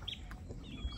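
Chickens in a backyard flock in Liberia give soft clucks and short chirps near the door, with a faint ambient hum and a low thump toward the end.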